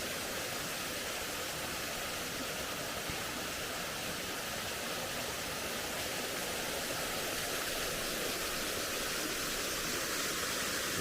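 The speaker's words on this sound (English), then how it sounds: "a beautiful waterfall" Waterfall on the Rhododendron Trail in Mount Airy, Georgia, roaring steadily and broadband for the whole stretch, a constant close rush of falling water with no voices.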